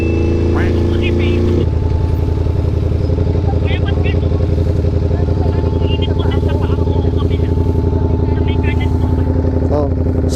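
A Ducati motorcycle idles nearby, its exhaust giving a loud, steady, throbbing rumble with a slight shift early on, while people chat faintly in the background.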